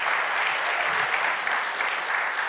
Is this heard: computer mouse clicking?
no